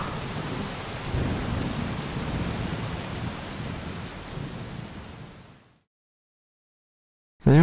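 Steady heavy rain hisses loudly for about five seconds, then fades to silence before a sudden loud sound cuts in at the end.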